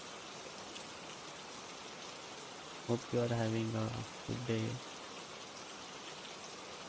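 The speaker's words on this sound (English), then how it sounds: "It's raining. No, I have added a audio, background audio." Steady background rain fills the whole stretch as a soft, even hiss of drops on a surface, with a person speaking briefly over it midway.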